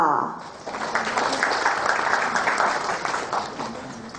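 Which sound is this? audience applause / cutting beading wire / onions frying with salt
audience applause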